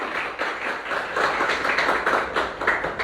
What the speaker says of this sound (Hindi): तो एक बार जोरदार तालियों के साथ मैं स्वागत करना चाहता हूं